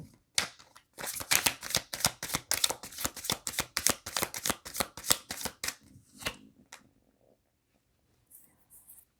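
Tarot cards riffled and shuffled in a fast run of crisp, rhythmic bursts, close and loud, then stopping as the cards are spread, with a few soft rustles afterward.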